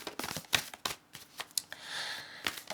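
A deck of oracle cards is shuffled close up, with quick riffling bursts and soft card slaps in an irregular rhythm and no voices.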